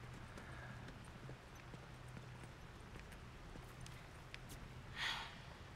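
Faint, steady clip-clop of horse hooves in the video game The Last of Us: Left Behind, heard low beneath a constant ambient hum, with one brighter burst near the end.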